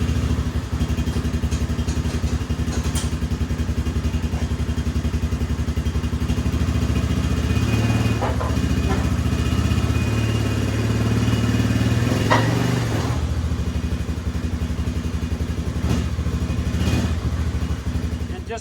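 A Polaris Ranger 570 mid-size side-by-side drives up onto wooden blocks, its engine running steadily at close range with some clatter and a brief rise in revs partway through.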